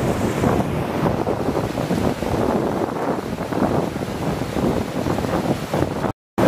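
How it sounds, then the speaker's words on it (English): Steady rushing water from a waterfall in the New Jersey Pine Barrens roars continuously, broad and loud, with gusty buffeting on the microphone; a brief dropout near the end. "Nice waterfall here."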